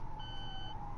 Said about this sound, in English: I suspect that's an ambulance